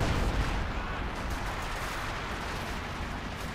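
Artillery and gunfire from the Company of Heroes 2 strategy game form a dense, continuous battle roar of overlapping booms and shots that stays loud and unbroken throughout.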